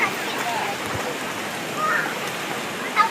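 Waterfall at the Sungai Bantang recreational forest in Segamat, Johor, a steady broad rush of falling water heard close and continuous throughout, with faint bird chirps and brief voices nearby.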